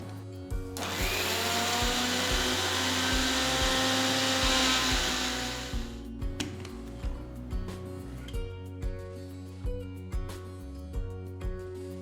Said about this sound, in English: Transfer the cooled sesame seeds to the mixer jar and grind it to a nice fine powder.